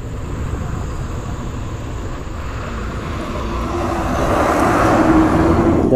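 Road traffic rumbling past a check post at the Tiruvallur district border, heard on a solo ride from Arakkonam to Tiruttani; a steady broadband engine and tyre roar that swells louder toward the end, with no talking.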